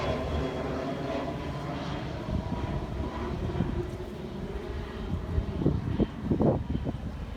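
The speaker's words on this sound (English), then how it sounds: "There's one plane flying." A single airplane droning overhead above a storm-damaged beach area at Bonita Beach after Hurricane Ian, a steady low engine rumble that swells slightly toward the end amid light outdoor noise.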